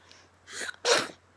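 A single sharp sneeze with a short intake before it, close and loud, followed by quiet.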